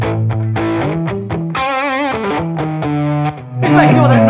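A distorted electric guitar through a graphic EQ pedal plays chords and a swelling wavering phrase, its tone shifting from full to thinner and back, with a louder burst at the end.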